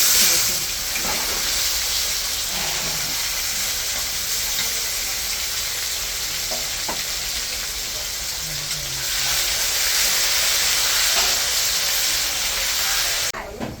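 Potatoes hiss and sizzle steadily in hot oil for a fish curry, a loud, continuous frying noise that swells partway through and stays near and constant throughout.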